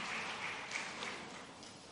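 Applause from a women entrepreneurs' conference audience welcoming the Chief Minister, a steady, dense wash of clapping heard at moderate distance and sustained without pause.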